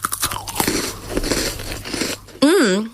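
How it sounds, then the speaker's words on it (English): A crunchy chocolate snack bitten and chewed close to the microphone, a dense run of loud crisp crunching, followed by a voice reacting. "It's the right amount of crunch and OMG, so much chocolate."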